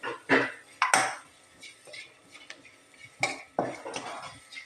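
Utensil clatter as fried cashews and raisins are stirred into batter in a pan for kinnathappam, a few scraping and clinking knocks spaced irregularly, near and fairly soft, with no voices.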